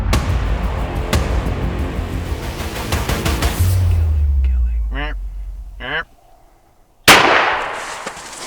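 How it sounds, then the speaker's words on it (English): A hunting shot fired at a buck from a few yards away: a sharp, loud report cuts through the surrounding noise, followed by a brief silence. A hard burst of sound comes after that. "I freaking shot his horns off"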